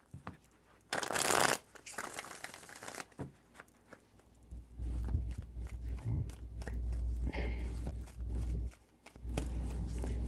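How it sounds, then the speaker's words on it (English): A tarot deck is shuffled in quick riffling bursts, with loud crisp card flutters followed by softer handling, rustles and taps, close-up in a quiet room. "Three shuffles."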